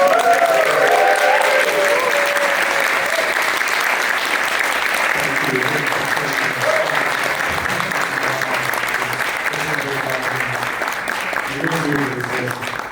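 Loud, sustained audience applause fills a cinema after a film screening Q&A, a dense wash of clapping with scattered voices and some cheering mixed in throughout.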